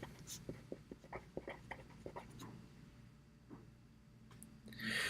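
Pen or marker writing on a board or paper during a physics lesson on magnetism: soft, close scratchy strokes in an irregular rhythm, quiet and fading out before a brief louder rustle at the end.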